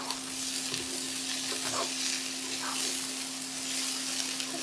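Vegetables including carrots are stirred in a hot pan for a Kerala-style white vegetable stew, a steady close sizzle with soft scraping strokes throughout and no talking.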